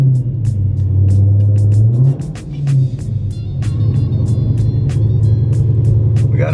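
A Dodge Hellcat V8 with an unlocked PCM fires up and runs, giving a loud, close, deep engine rumble with a brief rev that dips and then settles into a steady idle, with sharp ticking clicks on top.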